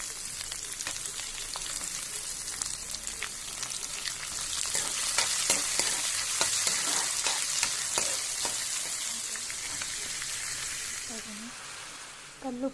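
Urad dal and curry leaves sizzle in hot tempering oil for a breakfast dish, with a steady broadband crackle and bursts of spitting and stirring that swell mid-clip and ease toward the end.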